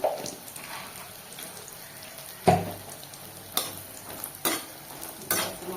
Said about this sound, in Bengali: এবার আমি এই তেলের মধ্যেই কটা বড়ি ভেজে নেবো।